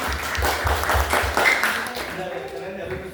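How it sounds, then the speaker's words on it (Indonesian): Audience applause during a student internship presentation at an Indonesian company, clapping building over the first seconds then fading, with a voice talking over it. "Ini tepuk tangan karena pamer."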